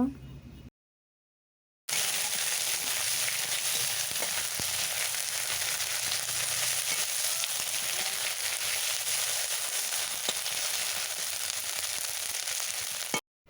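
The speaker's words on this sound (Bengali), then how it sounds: "এরপর পেঁয়াজের সাথে আদা রসুন ভালোভাবে ভেজে নেব" Ginger garlic paste fries with onion in a pan for a mushroom and potato dish, giving a loud, steady sizzle that runs continuously after a brief silence at the start.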